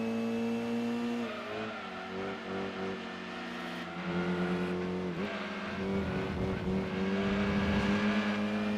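Race cars in the racing game Gran Turismo 2, a Mazda RX-7 among them, roar past each other in an overtake, with loud sustained engine notes that rise and shift pitch throughout and a brief tire squeal midway.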